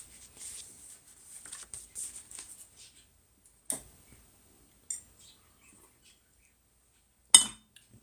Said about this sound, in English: I hit one glass with another glass.